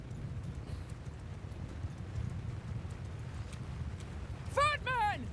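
Mounted horse archers gallop in the Mount & Blade II Bannerlord video game, making a steady low rumble of many hoofbeats, with a horse's whinny rising sharply near the end.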